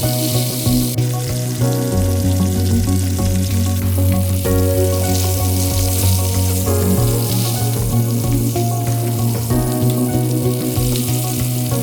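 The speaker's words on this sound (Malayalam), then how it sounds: "നമുക്കിതിനി ഒരു ചൂടായ പാനിലെ എണ്ണ ഒഴിച്ച് ഒന്ന് വറുത്തെടുക്കാം" Brinjal fries in hot oil in a pan, giving a loud, continuous crackling sizzle with a tonal melody playing underneath.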